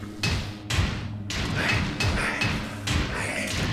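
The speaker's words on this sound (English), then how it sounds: "He would bang his head on the floor" Series of heavy thuds as a character's head smashes into the floor in the PS1 Metal Gear Solid video game, four or five dull impacts spaced about a second apart amid game noise.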